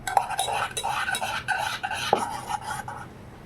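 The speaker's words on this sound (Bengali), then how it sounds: "চলো এটা একটু ফেটিয়ে নিচ্ছে, দেখো।" Mango cake batter being whisked in a bowl, a brisk rhythmic series of clinking, scraping strokes of the whisk against the bowl, close and unaccompanied, easing off at the end.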